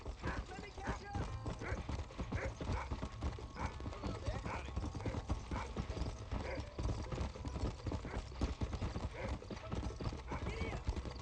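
Horse hooves galloping in the video game Red Dead Redemption, a fast continuous clip-clop rhythm with an occasional whinny, under a speaking voice and game background sound.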